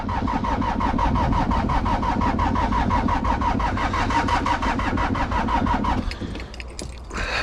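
A car engine in a one-foot snowstorm cranks steadily with a fast rhythmic churn for several seconds, struggling to start in the cold, then cuts off into quieter wind and rustling.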